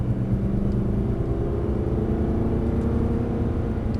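An Aston Martin race car accelerating hard on a track, with a loud, steady engine rumble and road roar that holds at full strength throughout, heard from inside the car.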